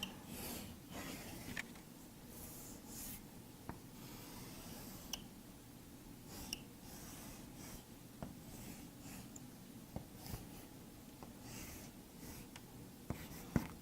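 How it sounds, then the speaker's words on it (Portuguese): Pen or pencil strokes scratch steadily across paper while a parallelepiped is drawn by hand, a soft continuous scraping with occasional small taps and clicks, close and fairly quiet, with no talking. "vou desenhar novamente aqui o paralelepípedo"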